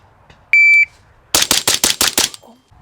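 A rifle with a modernized carry handle build fires suppressed shots on a range after a shot timer's electronic beep. A short high tone sounds first, then a rapid string of about seven sharp, loud cracks follows a pause, with no speech.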